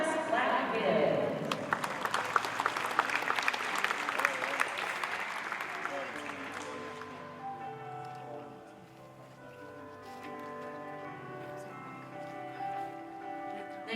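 An audience at a dairy cattle show claps in a warm round of applause for a champion Holstein calf, dense at first and fading out after several seconds, with a voice talking over the tail end.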